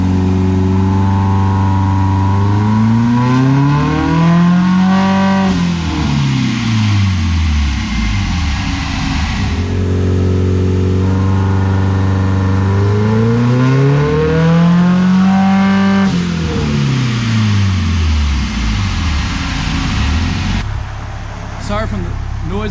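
A Subaru STI on a dyno makes a pull with loud engine revving. Its pitch climbs in two long sweeps, then drops sharply each time, all over a constant hum from cooling fans.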